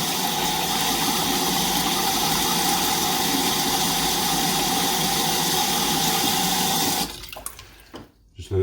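Water pours steadily into a container to rinse silver-bearing sediment recovered from IC chips, a loud continuous rushing stream that cuts off near the end, leaving a few quieter knocks and trickles.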